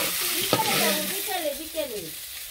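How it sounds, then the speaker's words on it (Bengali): Catla fish heads fry in hot oil with a continuous close sizzle. Faint tonal background sounds drift over it. "মাছের মাথা ভাজা শেষ"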